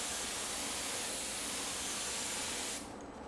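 A spray gun lays a dry coat of candy red paint onto a board, giving a loud, steady hiss at close range that runs for nearly three seconds before cutting off abruptly.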